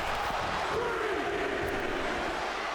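A dense, steady wash of wrestling arena crowd noise in WWE 2K24, cheering and chanting blended into a constant roar, moderately loud with a faint voice briefly rising above it.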